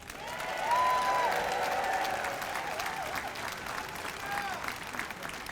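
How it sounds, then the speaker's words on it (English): A rally crowd at a No Kings protest claps and cheers in sustained applause, moderately distant, with a whistle or cheer rising early and a steady wash of clapping underneath. "So let's give Linda a great hand."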